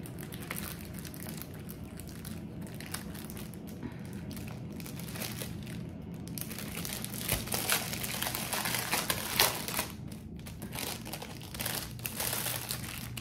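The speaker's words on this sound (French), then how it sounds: "Maintenant, on va faire le déballage." Wrapping from an AliExpress cross-stitch kit crinkles and crackles steadily as the package is opened, a close, continuous rustle with slightly louder bursts toward the end and no talking.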